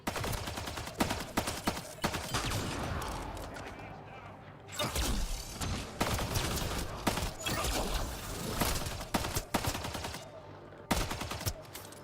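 Sniper and rifle gunfire in the sci-fi shooter Mass Effect: Andromeda, set on a jungle planet, with repeated sharp shots and bursts crackling through a dense battle mix while a player talks over it.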